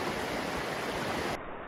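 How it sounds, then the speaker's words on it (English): Dutch Creek, a mountain stream near a trailhead, rushes steadily with a dense, constant hiss of flowing water, close and fairly loud, with no voices. "And this is Dutch Creek right here."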